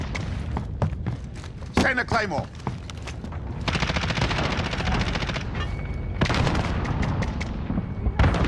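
Rapid automatic gunfire and scattered single shots from Call of Duty: Modern Warfare ring out close and loud, with bursts recurring over several seconds amid other game sounds and a player's voice.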